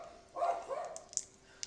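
Dog barking indoors during a papercraft supply haul, a couple of short yappy barks at moderate distance, followed by a few faint sharp clicks.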